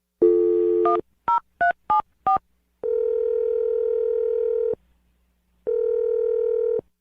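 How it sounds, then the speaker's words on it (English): A quick run of touch-tone dialing beeps, then two long, steady ringback tones separated by a pause, loud and close with no voices. "So I'm going to dial the phone number right now"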